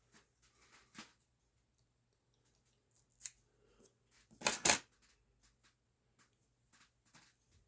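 Scissors snipping fluffy hackle feather fibres at a fly-tying bench: a few faint, isolated snips spread across a quiet stretch, then a louder, closer cluster of cuts near the middle, with no talking.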